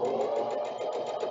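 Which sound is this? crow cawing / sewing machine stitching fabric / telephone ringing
sewing machine stitching fabric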